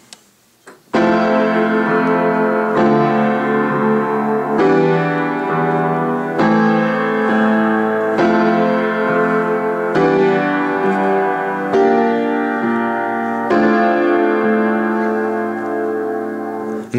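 Piano plays the verse chord progression of a song, a steady sequence of sustained chords struck about every two seconds, clear and close.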